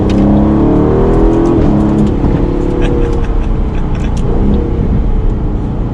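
A turbocharged 2020 Aston Martin Vantage engine revs hard and accelerates, its rising roar loud and close and steady for several seconds, with faint voices underneath.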